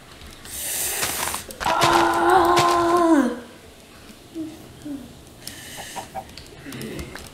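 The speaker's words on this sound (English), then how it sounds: "I'm trying to kill a chicken." A video game chicken clucks in a short burst of pitched squawks, followed by softer scattered sounds, with a player talking around it.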